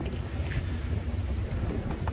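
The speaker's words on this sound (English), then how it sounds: "very windy. Very windy today." Strong outdoor wind buffets the microphone in a continuous, loud low rumble that lasts the whole stretch, with no speech over it.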